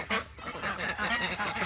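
A flock of ducks calling during morning feeding, loud close honking and quacking cries overlapping in quick bursts with no pauses between them.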